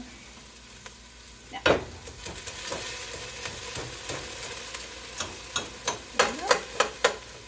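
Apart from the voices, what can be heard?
sautéing onions and peppers in a pan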